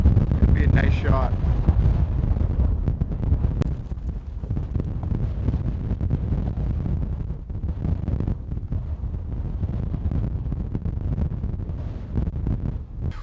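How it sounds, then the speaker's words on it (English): Strong gusts roar across an exposed mountain summit on the Berg Lake Trail, a loud, continuous buffeting that batters the microphone for the whole stretch, with a brief voice near the start. "It's so windy."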